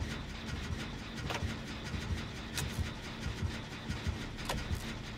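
A generator engine being repaired in the video game Dead by Daylight chugs at a low, steady level, with irregular mechanical knocks and clicks scattered over the hum.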